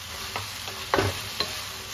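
Eggplant bharit with coriander being stir-fried in a pan, a constant gentle sizzle with a few distinct spatula scrapes and one louder clatter, heard up close with no talking.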